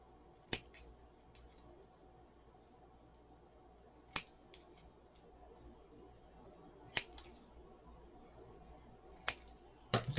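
Scissors trimming a paper template for Halloween clock decor make sharp, crisp snips, about five isolated cuts spaced a couple of seconds apart over a faint, quiet background.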